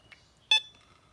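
A handheld metal detector gives a short sharp electronic beep, preceded by a faint chirp, in an otherwise quiet outdoor setting.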